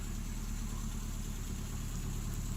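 A vehicle engine idles steadily in fresh snow, with a low, continuous rumble and faint vibration and no talking.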